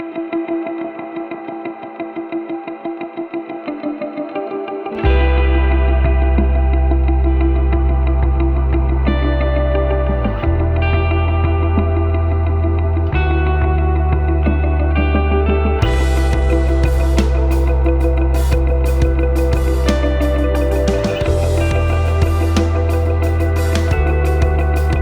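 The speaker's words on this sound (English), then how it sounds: "I can blend all these sounds and just create an ambient sound." Electric guitar run through a Valeton GP-5 multi-effects unit into a clean dark twin Fender amp model, playing a lush ambient tone with chorus, echo and long reverb over a heavy sustained bass backing, loud and continuous throughout.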